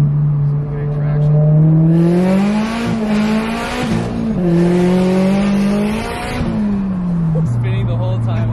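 A turbocharged Toyota GR86 on 285-section Nitto tires accelerates hard on dry pavement, the engine note climbing and dropping through the gears as the tires spin, heard from inside the car with occupants talking over it.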